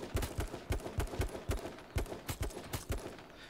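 Gunfire in the survival shooter game H1Z1: rapid rhythmic bursts of repeated shots, loud and close, with brief gaps between volleys.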